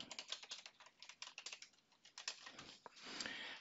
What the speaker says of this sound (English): Let me type the password correctly.